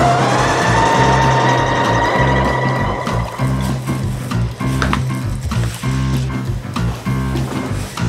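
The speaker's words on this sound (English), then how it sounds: "I'm already stitching it directly onto the batting" A sewing machine stitches quilted fabric strips directly onto batting for an insulated mason jar cozy. Its steady, rhythmic chugging runs loud and close throughout, with no talking.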